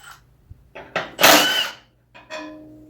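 Rusty bolts being loosened on a 1972 tractor mower: a few separate mechanical bursts, one longer gritty grinding stretch in the middle, then a short tonal squeal, all close.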